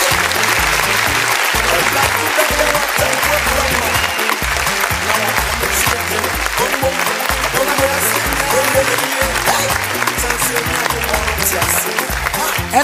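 A church congregation applauds and cheers steadily for a birthday celebration during a service, a dense, loud wash of clapping and voices that continues without a break.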